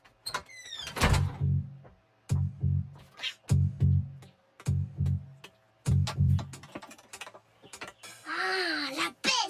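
A cat meows repeatedly in short bursts, close by, with a longer drawn-out yowl near the end; soft background noise between calls.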